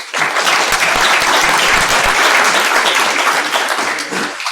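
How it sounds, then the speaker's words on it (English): A conference audience at a security talk gives a loud round of applause, dense and sustained for about four seconds before tapering slightly at the end. "Give him a round of applause."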